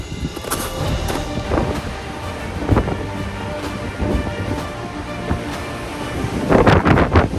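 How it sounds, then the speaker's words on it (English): Strong wind on a mountain top buffets the microphone in gusts, roaring and rumbling continuously, swelling louder toward the end. "it is extremely windy up here"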